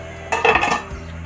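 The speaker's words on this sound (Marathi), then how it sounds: "आता मी ढाकण काढते." Metal lid lifted off a pot of simmering dry shrimp curry (sukat rassa), a single brief clatter with a short ringing scrape, close and loud, then quiet kitchen background.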